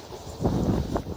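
Strong gusting wind in a snowstorm in Hamilton's west end buffets the microphone in low, uneven roaring bursts that swell and fade over about a second.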